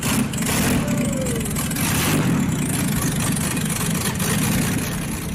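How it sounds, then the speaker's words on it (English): A classic BMW M5 engine runs loud and close, a steady throaty idle with slight swells in revs and no talk over it. "Listen to this beast."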